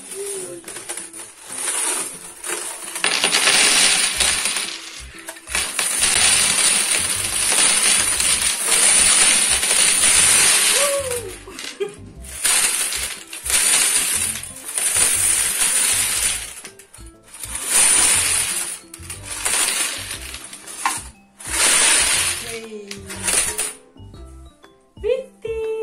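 Coins pour out of an opened piggy bank onto a table, with repeated bursts of loud metallic clinking and jangling, brief pauses between the bursts, and a voice talking now and then.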